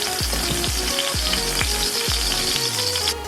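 Garlic dropped into oil in a very hot wok for a chicken noodle stir fry, a loud, close, steady sizzle with a few quick clinks and scrapes, no voices.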